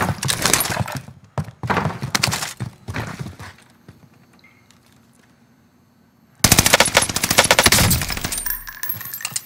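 Rapid automatic gunfire from a video game, loud bursts of machine-gun fire and shots in two stretches with a quieter lull between them.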